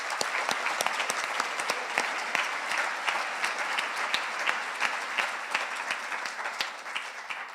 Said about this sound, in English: Applause for all of them, please.